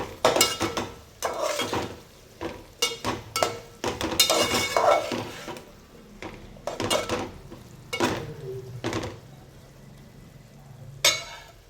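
A spoon scrapes and stirs tempering spices with a little turmeric in a hot pan for green peas pulao, giving irregular clattering scrapes over a soft sizzle, near and moderately loud, with no talk.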